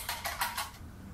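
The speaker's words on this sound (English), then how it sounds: "I'm just gonna whisk" Eggs whisked by hand in a bowl for a burger mix, four quick rhythmic clinking strokes of a metal whisk, close and fairly quiet, then fading.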